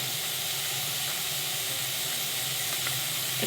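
Spice-bowl rinse water poured into a hot pan for a rohu fish curry makes a loud, steady hiss and sizzle, close and continuous without a break.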